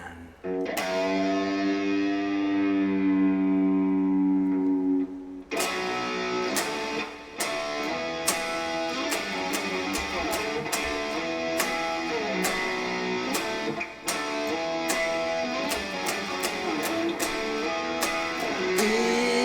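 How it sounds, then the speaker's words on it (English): Electric guitar played through a reverb effect, a long sustained chord ringing out first, then a steady run of distorted picked chords and riffs with a washy tail, loud and close, with no talk over it. "Can you hear the guitar? I need to ask if people can hear the guitar and is there reverb?"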